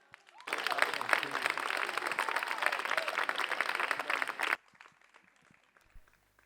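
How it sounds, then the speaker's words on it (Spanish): Audience applause before a singing performance at the Canta con Ames 2023 contest, a full burst of clapping that swells in, holds for about four seconds and then cuts off to near quiet. "Forte aplauso."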